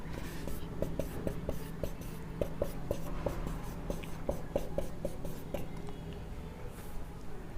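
Pen scratching out rough working on paper during a reasoning lesson on coding and decoding: quick, light strokes in an irregular rhythm, close and quiet over a faint room hum.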